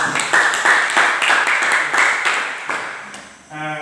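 A classroom group applauds during a maths lesson, a steady wash of many hands clapping together for about three seconds before fading, followed by a short tone.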